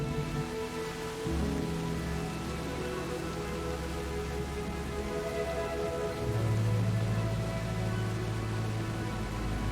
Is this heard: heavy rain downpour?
yes